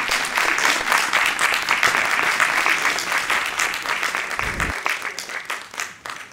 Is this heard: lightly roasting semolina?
no